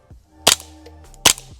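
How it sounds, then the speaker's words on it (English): Suppressed .22 rifle firing subsonic ammunition, two quiet, sharp shots about a second apart, each a brief muffled pop heard close with no talking. "So I do have subs loaded in here, and let's see just how it sounds."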